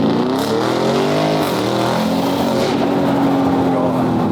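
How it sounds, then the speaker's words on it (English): Lamborghini Urus with an aftermarket exhaust and Miami Blue wrap, its engine loud and close, a steady deep roar with a rev swell partway through that continues for the whole span. "This is Dave's previous Urus with the exhaust and the Innos Tech Miami Blue wrap."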